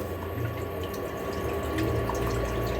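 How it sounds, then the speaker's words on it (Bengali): Water poured into a pan to boil vegetables for a healthy diet meal, a soft steady splashing trickle heard close by and fairly quiet, with no voices. "একটু জল দিয়ে দিলাম।"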